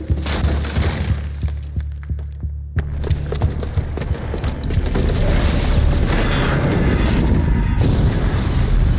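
A booby-trapped bomb detonates in Horizon Zero Dawn Remastered: a deep, heavy boom with thuds and debris that rolls into a sustained loud rumble lasting several seconds.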